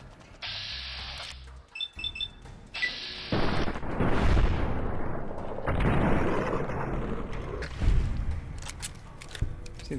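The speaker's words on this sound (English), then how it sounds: "Let's try out that gun." Gunfire from a weapon in the video game Fallout: New Vegas: after a few electronic beeps, a sustained burst of loud, booming shots and blasts rolls on for several seconds.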